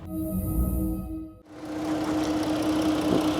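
A 3.2-litre Jeep Cherokee Limited engine idles with a low, steady rumble after a brief cut, running smoothly and quietly at close range with no other sounds.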